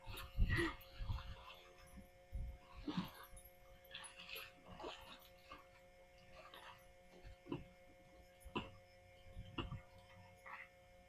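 A dog whimpers and yips in short, scattered bursts while playfully attacking a pool rod outdoors in a garden, the sounds close and fairly loud against quiet background hum.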